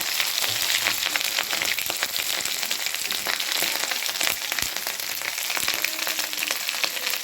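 Ginger-garlic paste, a green chilli and a mixed spice paste fry in hot oil for a fish curry, a steady dense sizzle with crackling pops running throughout, close and loud, with no talking.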